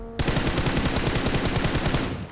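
Rapid, sustained automatic gunfire from the mobile battle royale game BGMI, a dense unbroken stream of close, loud shots lasting a couple of seconds with no talk over it.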